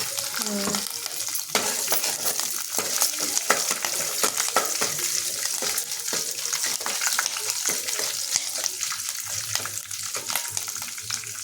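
Green chillies sizzle in oil for tempering a rasam-style dish, a steady frying hiss broken by scraping stirring strokes and small crackles, close and continuous without speech.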